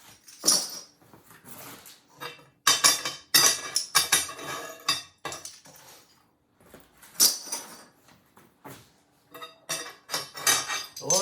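Ceramic kiln stilts being unpacked and handled, bursts of bright clinking and clattering of small hard pieces in clusters separated by quiet pauses, close by.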